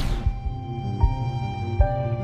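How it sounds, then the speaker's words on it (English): Short impact hits from the spike dash attack in the fitness running game Run Legends on Android, three punchy thumps with bright tonal chimes over a steady game music bed, heard without talk. "When you hit something with your spike dash, it'll sound like this."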